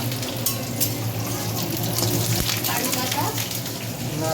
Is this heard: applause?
no